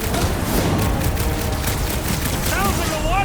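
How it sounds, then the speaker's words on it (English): Dense bursts of gunfire and booming explosions from a Marvel's Guardians of the Galaxy video game battle, loud and continuous, with sci-fi whooshing effects near the end. "Sounds like a lot of flark and gunfire! There is much noise!"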